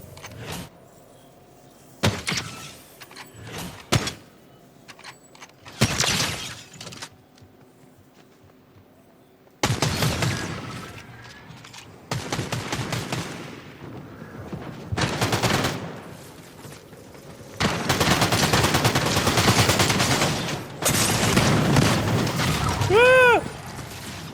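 Video game gunfire played on an Intel i7 7700 with HD 630 integrated graphics, with bursts of shots, booms and rapid fire separated by short quiet gaps, growing denser and louder toward the end, with players talking over it.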